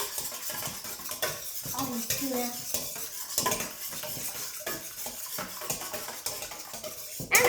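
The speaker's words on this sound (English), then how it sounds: "Then take your whisk and whisk." Eggs are whisked in a bowl in a kids' cooking class, the whisk clinking and scraping steadily against the sides, close and fairly loud, with a short spoken word and a sharp knock at the end.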